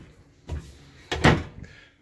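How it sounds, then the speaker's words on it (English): A full-length cabinet drawer on ball bearing roller glides in a 2019 Travel Lite Aura 21RB travel trailer slides out, giving two close, brief rolling thumps about half a second apart. "You've got this cabinet that pulls out full profile, full length drawers with ball bearing roller glides"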